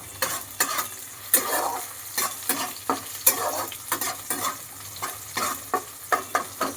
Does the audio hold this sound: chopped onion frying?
yes